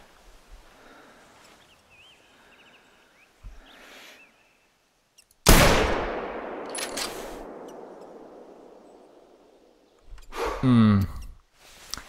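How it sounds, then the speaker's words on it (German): A single sharp rifle shot cracks out while hunting a wolf in The Hunter, then a long echoing tail fades over several seconds, with quiet rustling before it and a burst of speech afterward. "Deshalb werde ich den jetzt schießen."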